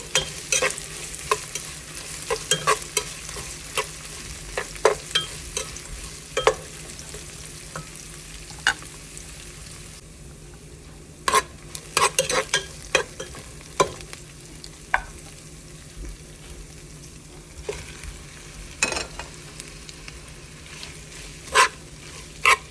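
Onions sautéing in a pan for a Filipino mung bean dish, a soft continuous sizzle broken by frequent sharp clicks and scrapes of a utensil stirring, irregular in rhythm and fairly close.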